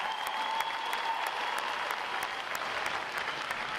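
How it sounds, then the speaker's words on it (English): Another round of applause rises from the audience at a U.S. Navy Recruit Training Command boot camp graduation, a steady, somewhat distant wash of many hands clapping. "how about another round of applause for our unit and individual award performance?"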